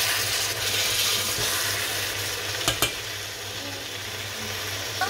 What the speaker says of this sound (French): On laisse bien cuire tout ça.